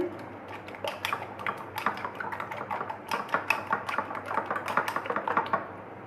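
Spices being whisked into egg batter in a bowl for an omelette paratha, a utensil making rapid, steady clinking taps against the bowl, close and distinct.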